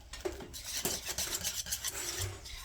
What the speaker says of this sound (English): Just keep this stirring.